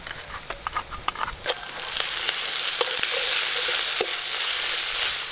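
Ginger-garlic paste hits well-fried onions in a pan: a few spoon taps and stirring clicks, then a loud, close sizzle that swells and holds steady.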